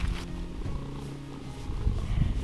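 A little farm kitty purrs close up in a low, steady rumbling rhythm, short and fairly soft.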